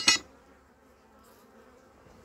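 Bees buzz at a beehive in a rural setting, a faint, steady hum that follows a sharp click at the start.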